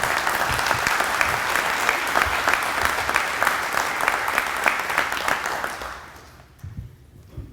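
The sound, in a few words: audience applause at business awards lunch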